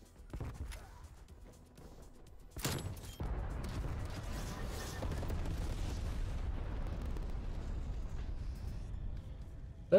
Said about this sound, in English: Doesn't everybody just love napalm strikes?